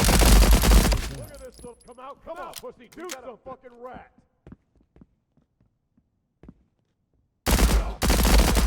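Firefight in the shooter game Transience: loud bursts of gunfire open and close, with a voice talking between them over a few faint scattered shots.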